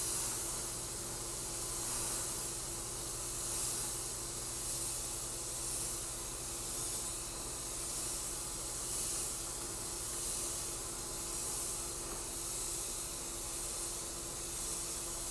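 Airbrush spraying paint onto a bottle, a continuous airy hiss with a gently pulsing level, steady and close throughout with no voices.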